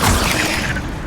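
A Levioso levitation spell goes off in the Hogwarts Legacy video game, a short, loud whooshing rumble with a creaking, mechanical edge that fades within about a second.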